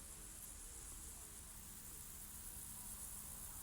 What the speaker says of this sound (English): I've never heard so many crickets.